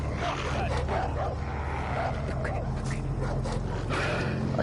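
A dog barks in Far Cry 3, a few short yelps and bow-wows scattered over a busy game soundscape with a low constant rumble.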